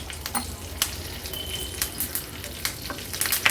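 Cumin seeds spluttering in hot oil with mustard seeds, asafoetida and curry leaves, a steady quiet sizzle broken by scattered sharp pops and crackles, close by with no talk.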